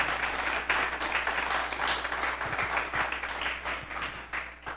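A church congregation applauds during a Spanish-language sermon, a steady, dense wash of many hands clapping that fills the room at moderate loudness with no speech over it.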